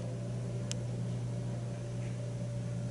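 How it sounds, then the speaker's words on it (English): A steady low mechanical hum and drone from a running clothes dryer fills the background, with one faint brief tick. "it's the dryer."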